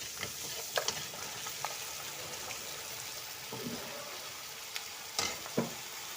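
Sliced ridge gourd rounds hitting hot spiced oil in a pan, a steady soft sizzle with scattered sharp crackles and a few clicks of handling, fairly close, no voices.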